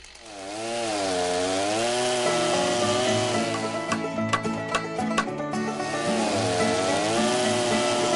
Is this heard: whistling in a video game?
no